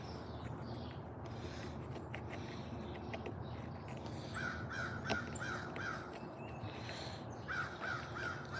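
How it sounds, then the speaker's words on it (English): Crows caw repeatedly in short runs of harsh calls, moderately distant, outdoors over a steady background hum. "There's crows, and we got tufted titmouses over there."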